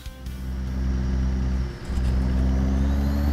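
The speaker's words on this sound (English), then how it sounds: "That truck engine a little loud too" A Peterbilt 362 truck engine in American Truck Simulator hums steadily and loudly with a deep low rumble, dipping briefly before revving back up.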